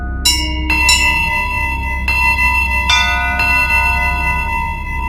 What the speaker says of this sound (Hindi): महल के बीचों बीच लगी विशाल घंटी लगातार बजती रही।